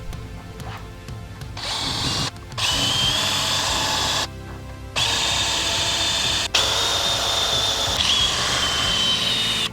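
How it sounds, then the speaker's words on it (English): A power sander grinds away excess epoxy on a repaired RV refrigerator door hinge frame, running in several loud, steady bursts with a high whine, separated by brief pauses. "let's sand the excess epoxy off and get this thing painted."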